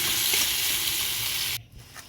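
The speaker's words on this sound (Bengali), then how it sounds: "পেঁয়াজগুলো ভালো করে নাড়াচাড়া করে ভেজে নেব" Onions fry and get stirred in hot oil in a wok for a pumpkin and egg dish, making a dense close sizzle that drops off abruptly near the end to a much quieter hiss.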